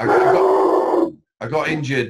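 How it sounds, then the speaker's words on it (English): A dog barks close by in a steady burst lasting about a second, followed by a short pause and then someone speaking. "that's the dog, obviously."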